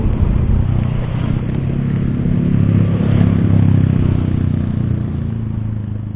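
A blue motorcycle rides on the road from Ciawi, Bogor toward Bekasi, its engine giving a steady low drone with road and wind rumble throughout, loud and close, with no speech.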